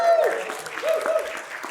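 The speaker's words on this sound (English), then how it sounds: "Round of applause for Marcus." A summit crowd in Australia applauds a man named Marcus, steady clapping with a few whistles and cheers mixed in and voices heard through it.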